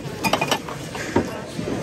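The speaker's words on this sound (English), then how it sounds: "You hear that silverware, Ruckus?" Small metallic clinks of silverware being handled in a thrift store, a few light scattered taps and rattles under quiet background room noise.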